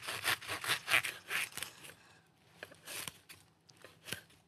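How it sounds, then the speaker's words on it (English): A serrated knife saws through the top of an artichoke in quick rasping strokes, close and fairly quiet, followed by a few sharper cuts. "with a serrated knife, we're going to cut the top of the artichoke off"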